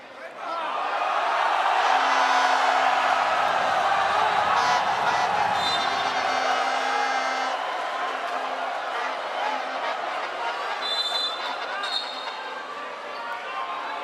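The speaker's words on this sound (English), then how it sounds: "Expect a reaction from the crowd." Crowd at a basketball arena during an MPBL National Finals game between Quezon and Pampanga sends up a broad, sustained roar that swells early and holds for several seconds before easing, while commentators talk over it.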